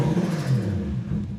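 1JZ-GTE VVT-i engine cranking over at full throttle, a brief rumbling, uneven chug close by with no talk.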